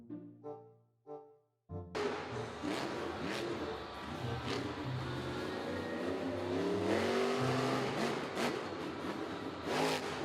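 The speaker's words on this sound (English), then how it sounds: "Monster truck." Toy monster truck engine revving sound, starting after a few short tonal blips, then a sustained loud synthetic rev with rising and falling engine pitch.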